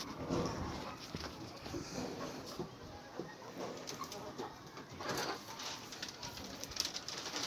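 Several pigeons coo softly and continuously, their low murmuring calls overlapping in a busy, close space.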